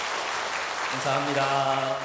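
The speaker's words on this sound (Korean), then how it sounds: "우리 하나님께 영광의 박수 하겠습니다." Church congregation applauding during a Sunday service, a broadband wash of clapping that gives way after about a second to sustained tones and a voice speaking over it.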